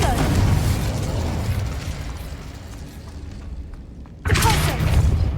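Confringo blast spell bursts in Hogwarts Legacy, a loud booming explosion at the start that fades into a rumbling tail, then a second sharp blast near the end.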